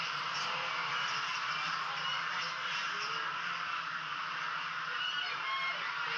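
A large flock of geese on a big commercial goose farm in China, honking continuously in a dense, steady chorus that fills the air without letup.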